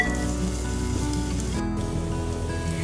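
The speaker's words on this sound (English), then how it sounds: "we'll add our julienne ginger as well as finely cut garlic" Julienne ginger and finely cut garlic sizzle loudly in a hot pan, a steady, close frying hiss with dense crackle and no voices.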